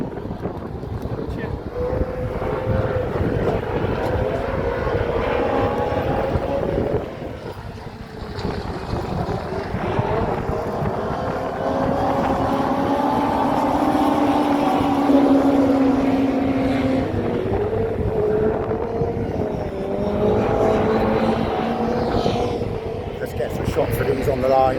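Autograss race cars tearing off the start line on a dirt track, engines roaring and rising in pitch over heavy wind buffeting the microphone, with a person talking excitedly throughout.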